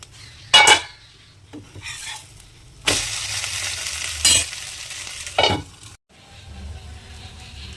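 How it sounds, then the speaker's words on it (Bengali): A paratha frying in a frying pan, with a steady low sizzle under several loud scraping and clattering bursts of a spatula against the pan. "আমার একটা পরোটা ভাজা হয়ে গেছে, তো আমি দ্বিতীয় পরোটাটা ফ্রাইং প্যানে দিয়ে দিয়েছি।"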